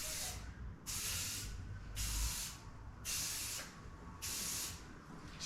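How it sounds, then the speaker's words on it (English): Bursts of spray paint from a spray gun coating a 1995 Chevrolet Silverado OBS truck during a facelift, five long hissing passes of about a second each with short pauses between, steady and close. "you want to spray it a little wetter"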